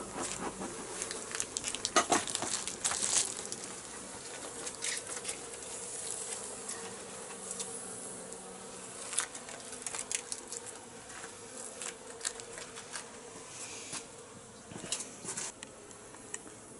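Honeybees hum and buzz inside a beehive being readied for winter, a steady close drone broken by occasional crackles and bursts as the colony clusters at the centre, with no talking.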